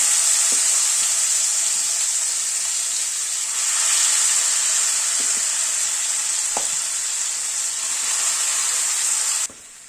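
Potatoes fry in hot oil with cracked tempering spices and small bay leaves, a steady loud sizzle and hiss filling the pan, broken by a few soft clinks of a spoon before the sound drops away at the end.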